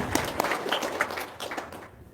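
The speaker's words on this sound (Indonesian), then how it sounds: "tepuk tangan dong" A small audience at a religious talk gives scattered applause, individual claps standing out within a brief, moderate burst that tapers off.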